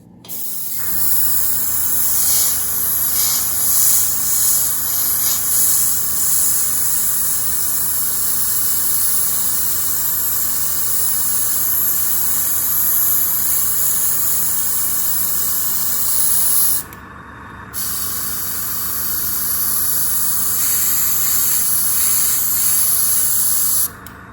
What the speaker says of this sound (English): So to neutralise the Pontos adhesive, we'll give it a coat of flat clear.